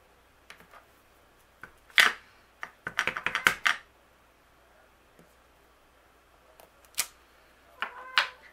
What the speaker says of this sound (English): So let's stamp this.